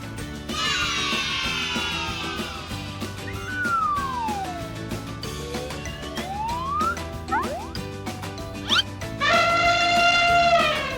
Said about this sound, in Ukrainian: Це слон.